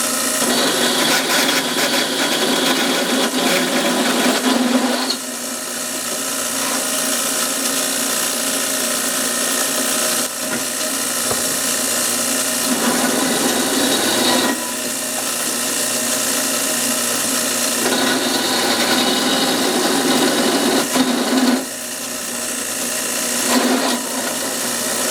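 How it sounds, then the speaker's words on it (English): A power drill drives fasteners into a trailer frame, its motor whirring and ratcheting in repeated bursts of several seconds each, loud and close, with short pauses between runs and no talk. "Helps if the drill's tight."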